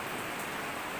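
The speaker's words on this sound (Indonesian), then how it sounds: "Ini hari hujan" Steady rain falls at night, a dense, even hiss filling the short stretch without any voice over it.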